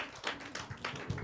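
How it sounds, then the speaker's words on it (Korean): Scattered hand claps from a church youth-group audience for an elder, a short uneven patter of taps rising and falling at moderate, fairly quiet level with no talk. "우리 장로님 다시 한번 우리 박수 한번 부탁드리겠습니다"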